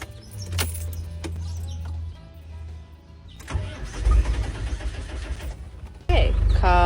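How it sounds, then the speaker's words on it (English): A 1996 Land Rover Defender engine cranks, catches and settles into a running rumble, close and loud, with a louder surge near the end and no talk over it. "Okay, car running."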